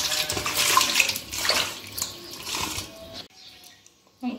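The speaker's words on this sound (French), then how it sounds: "Je vais retravailler, je mets de l'eau." Water splashes and pours into a bowl of peanut paste for Chadian peanut porridge, a close, hissing pour lasting a few seconds before it stops, followed by a faint clatter.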